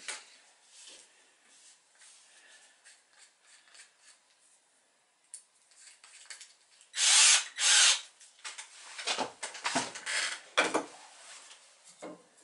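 Drill fitted with a 3.5 mm bit, faint handling noises and then two loud short drilling bursts around the middle, followed by scattered clattering and rattling as the work continues nearby.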